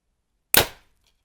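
A Hoyt Ventum 30 compound bow fires with a single sharp, close thud-and-snap that decays quickly into silence, followed by a faint tiny rattle.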